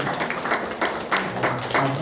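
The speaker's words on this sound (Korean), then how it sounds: "우리 박수로 격려해 주시기 바랍니다" A church congregation applauds during a Sunday worship service, steady rhythmic clapping from many hands filling the room at moderate volume.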